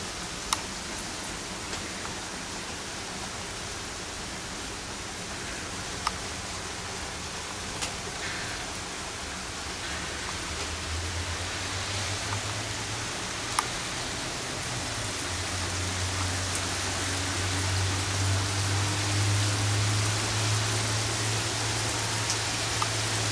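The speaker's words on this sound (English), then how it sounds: "raining really hard. It's flooding actually." Very heavy rain falls during flooding, a dense, even hiss of downpour with occasional sharp drop taps, while a low rumble of running water swells in the second half.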